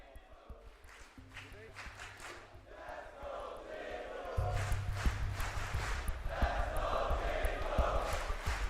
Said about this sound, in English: This is definitely a Monacy type crowd.